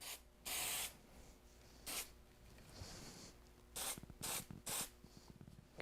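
Spray can coat going onto a guitar peghead: several short, close hissing bursts with pauses between them, the first and last ones clustered, fairly quiet and with no talking.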